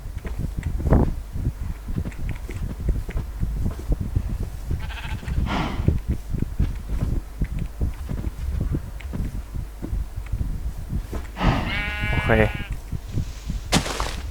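Minecraft 1.16.5 sheep bleat in the game, a few wavering cries near the end over a steady wash of background game noise, with scattered soft clicks and shuffles throughout.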